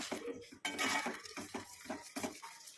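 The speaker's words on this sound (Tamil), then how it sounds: "இப்போ நல்லாவே கலந்து விட்டுடலாம்." A utensil scrapes and knocks around inside a cooking pot, stirring a coffee powder mixture in a quiet, repeated rhythm, with soft metallic clinks close by.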